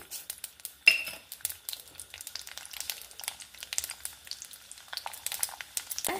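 Urad dal, chana dal and mustard seeds crackle in hot ghee, a light, fast spitting sizzle with small pops and one sharp metallic clink near the start.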